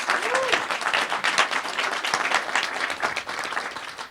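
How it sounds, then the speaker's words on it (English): Wedding guests applaud the bride and groom with steady, enthusiastic clapping that fills the room, a dense, lively patter lasting throughout with a faint voice briefly mixed in near the start. "Give them a hand of applause."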